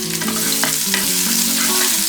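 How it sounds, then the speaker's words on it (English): Carom seeds, chopped green chilies and grated ginger crackle and sizzle in hot mustard oil for a paneer tikka dish, a steady close frying hiss with utensil scrapes of stirring and no talking. "Now the oil is hot, we'll add some carom seeds. We'll add some chopped green chilies and"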